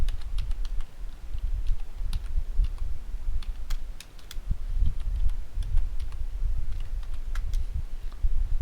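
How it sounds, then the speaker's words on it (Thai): Someone types on a computer keyboard, with rapid irregular key clicks running continuously over a low background rumble, close and moderately loud, with no talking. "เราก็พิมพ์ข้อความของเรา"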